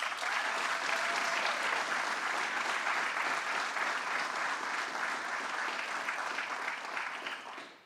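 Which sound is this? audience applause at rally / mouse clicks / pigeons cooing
audience applause at rally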